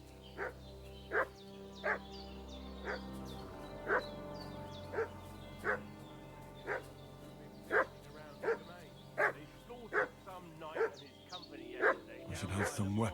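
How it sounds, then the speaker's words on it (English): A dog in the medieval video game Kingdom Come Deliverance II barks in a steady series of about a dozen loud, evenly spaced woofs over a low background score, ending in a burst of clatter. "What's that dog making such a fuss about?"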